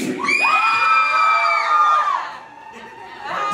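Party crowd at a Halloween K-pop club night cheering, whooping and shouting together in a loud, sustained roar that swells, dips briefly, then rises again.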